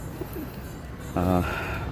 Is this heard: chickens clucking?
no